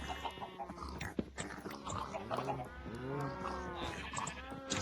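Sheep in the video game Minecraft bleat repeatedly, wavering calls that overlap and come up close and clear against a quiet background.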